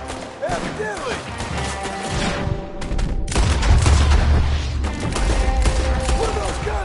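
Shootout in Red Dead Redemption 2, loud rapid volleys of gunshots and booms packed together, mixed with game voices and effects throughout.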